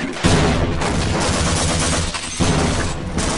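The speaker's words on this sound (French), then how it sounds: "Bon, ça va, une grenade bien placée" Grenade explosions and gunfire in the video game Half-Life Blue Shift, loud booming bursts that roll continuously with brief gaps, dense and close.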